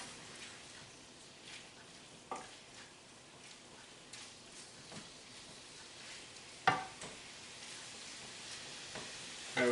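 Faint, steady crackling sizzle of chopped bacon frying in a hot pan, with a few sharper pops and clicks scattered through.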